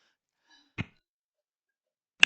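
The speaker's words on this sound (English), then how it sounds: "I didn't want to cough" A single short, dry cough sounds close in a quiet room, followed after a pause by a brief sharp click or tap.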